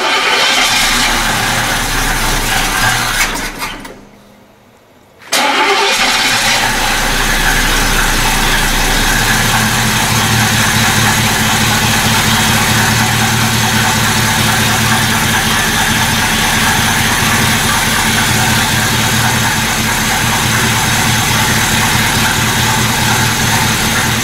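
A 1985 Buick Regal with a big block engine is test-fired; loud running stops and then cranks back to life, settling into a steady, rough idle heard up close for the rest of the clip.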